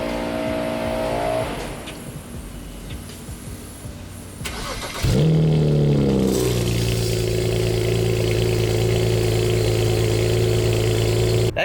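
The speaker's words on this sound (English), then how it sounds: "I want you guys to hear this cold start" A loud tuned BMW 335i engine cold-starts, cranking and catching, then settles into a deep, throaty idle that stays strong and steady, after quieter rumbling beforehand.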